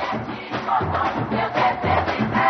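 A crowd at an international fleet review in Visakhapatnam roars and cheers for the Brazilian navy contingent, a loud, surging mass of voices with rhythmic swells.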